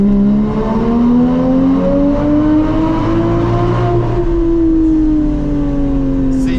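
Porsche Boxster engine droning steadily inside a tunnel, heard from the cabin with the windows closed, its low pitch rising gradually then easing off as the car accelerates and settles.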